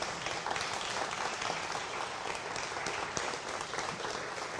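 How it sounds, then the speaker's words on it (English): A conference audience applauds its speakers with thick, continuous clapping from many hands, steady and fairly close, with no voices over it. "one more round of applause for our speakers"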